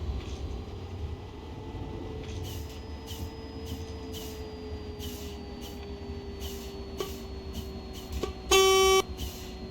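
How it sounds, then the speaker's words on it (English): A bus horn in the SimT bus, trolleybus and tram simulator gives one loud, short honk near the end, standing out over a steady engine drone and intermittent clicks. "the horn is very loud"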